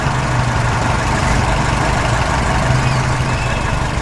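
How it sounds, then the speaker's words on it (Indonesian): A blue tractor's engine drones steadily as it crosses rocky ground, a loud, continuous low rumble with no breaks. "Traktor biru melintas di tengah tanah berbatu."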